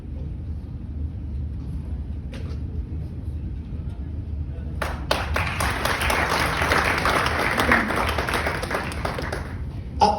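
Audience at a Kangen water demonstration clapping, a dense burst of hand claps rising midway and sustaining over a low room rumble and faint talk.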